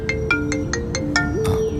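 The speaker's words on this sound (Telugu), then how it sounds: "వదిన ఫోన్ చేస్తుంది" A phone ringtone plays for an incoming call, a rhythmic electronic melody of short repeated tones over a low background hum, loud and close.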